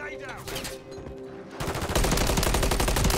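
Call of Duty: Modern Warfare III gunfire: a quiet opening with a voice, then a loud rapid burst of automatic shots hammering close and continuous for the second half.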